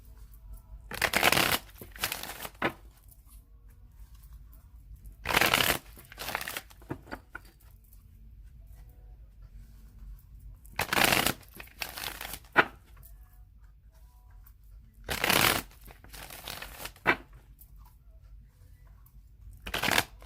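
Four bursts of tarot cards being riffle-shuffled, each a quick crisp flutter lasting about a second or two, separated by quiet pauses.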